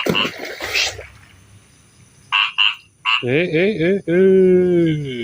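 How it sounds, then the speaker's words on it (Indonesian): Frogs croak loudly at night in rural Indonesia, a close chorus of rippling, trilling calls that arrive in bursts and then a long steady croak, with brief noises and a voice early on. "Kataknya mengganggu sekali."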